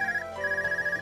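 Telephone ringing in the video game The Legend of Heroes: Trails of Cold Steel, a steady electronic ringtone tone that pauses briefly then resumes, loud and alone without talk.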